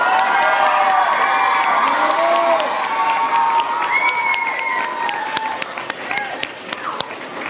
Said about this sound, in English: let's give Miss Holly Wilson a raging applause